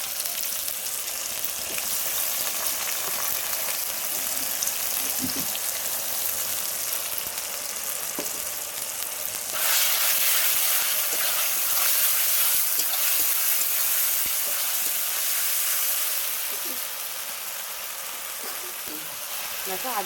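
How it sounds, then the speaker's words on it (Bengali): Ginger-garlic paste sizzles and fries in hot oil in a pan for chicken kosha, with onion and tomato already fried; a steady close hiss continues throughout, growing brighter and louder midway, with faint stirring scrapes underneath. "দেখো আদা রসুনটা দিয়ে বেশ কিছুক্ষণ কষে নিয়েছি।"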